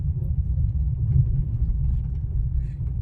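Steady low engine rumble from a car being driven by a learner, holding an even drone close by while it settles into rhythm before the shift into second gear, with no distinct gear-change jump.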